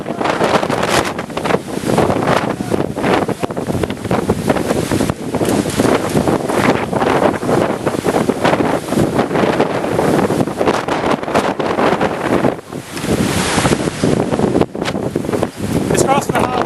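Strong wind roaring during a tornado, a loud, steady buffeting rush across the microphone with gusty surges, and people talking faintly beneath it.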